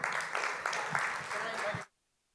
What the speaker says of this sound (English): please give a big round of applause to Dr. Corrie